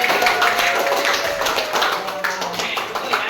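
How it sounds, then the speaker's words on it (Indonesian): A classroom of students claps together in a quick, steady patter of applause, moderately close, with faint voices underneath. "berikan tepuk tangan."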